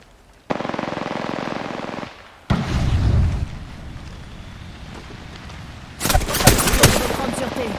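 Automatic weapon fire in the battle royale game Apex Legends arrives in loud rattling bursts, separated by a short lull of softer background noise, before a final intense volley.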